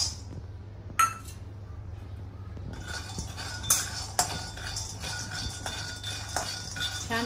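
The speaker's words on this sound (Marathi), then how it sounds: "आता आपण शेंगदाणे भाजून घेऊया। गॅसवर कढई ठेवले, कढई गरम झालेली आहे" Peanuts roasting in a hot kadhai on a gas stove, stirred with a utensil that gives intermittent metallic clinks and scrapes over a low steady hum, with no talking.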